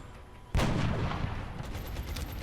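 A single loud gunshot in XCOM: Enemy Within Long War cracks out after a quiet moment, then a booming tail slowly fades.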